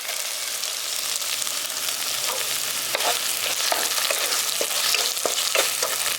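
Chopped tomato hitting hot oil with fried ginger, garlic and onion, a loud dense continuous sizzle with scattered crackles and stirring clinks throughout, no talking.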